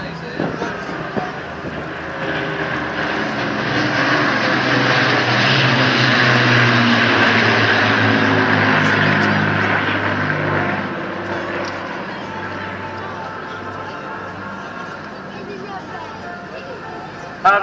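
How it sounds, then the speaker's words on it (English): Lancaster bombers drone past at the 2014 Portrush air show, their propeller engine roar building to a peak mid-clip before slowly fading, with faint voices in the background. "let's shut up and just listen to the sound of the Lancasters."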